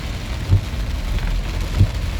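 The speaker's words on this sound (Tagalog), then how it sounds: "Oh, tingnan naman kung gaano kalakas ang ulan." Heavy rain pours steadily onto a road in Makati near the Magallanes tunnel, a dense close hiss with low rumbling thumps underneath.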